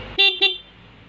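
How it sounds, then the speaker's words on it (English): Stock horn on a Yamaha Sniper 150 motorcycle sounds two short, close beeps in quick succession, then leaves a quiet background. "Stock horn."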